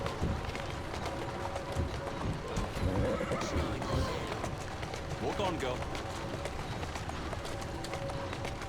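A horse in Assassin's Creed Syndicate clip-clops along at a trot with steady hoofbeats throughout, a whinny in the mix, and a voice talking to it over the top.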